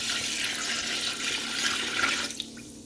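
Tap water runs steadily into a cooking pot, about 1.5 litres for chicken pulao, a soft continuous splashing that stops abruptly near the end.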